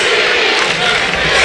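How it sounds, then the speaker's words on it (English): A packed gym of Ben Davis fans cheers loudly at a high school basketball semi-state game before the fourth quarter, a continuous roaring crowd with yelling and shouts, no break in the noise. "The Ben Davis crowd liven it up here as we get ready for the fourth quarter"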